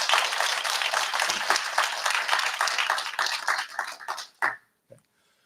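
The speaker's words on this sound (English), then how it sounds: "a round of applause I think is totally appropriate" An audience at a conservative political gathering claps in a round of applause, dense clapping at moderate level that thins out and stops near the end, leaving a few last claps.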